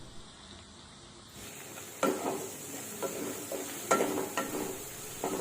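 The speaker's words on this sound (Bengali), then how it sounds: "এরপর সমস্ত মশলা দেওয়া হয়ে গেলে 1 মিনিট মতো কম আঁচে আমরা মশলাটাকে ভালোভাবে কষিয়ে নেব।" Spice paste of cumin and coriander powder frying on low heat in a pan for a Bengali pabda fish curry, a soft sizzle with intermittent spoon scrapes and taps, quiet and close.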